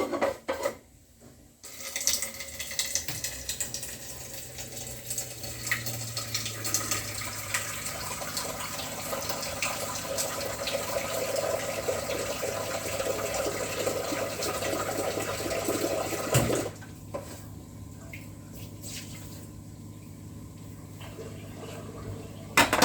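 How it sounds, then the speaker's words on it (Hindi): Tap water runs steadily into a metal pot in a home kitchen, filling it for steaming idli; a continuous close rushing flow that stops abruptly near the end, with no talk. "मैं इसमें पानी रख देती हूँ।"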